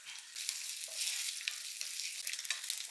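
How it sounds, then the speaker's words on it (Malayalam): Mustard seeds and coconut pieces crackle in hot oil in a pan, a close, bright sizzle with scattered sharp pops and spatters throughout, no talk. "എണ്ണ ചൂടാകുമ്പോൾ കടുക് ഇട്ട് കൊടുക്കാവേ"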